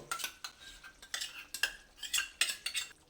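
Yogurt whisked in a bowl while preparing Sufiyani biryani, giving a run of quick scraping, clinking strokes of a utensil against the bowl in uneven bursts, close and fairly loud with no talk.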